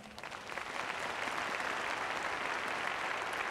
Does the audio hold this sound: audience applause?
yes